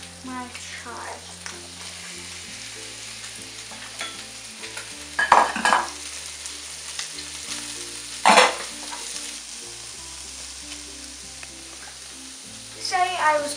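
Garlic, onions and chives fry in a pan with a steady low sizzle, broken by a few louder bursts of stirring and spatula scraping, a voice talking faintly now and then.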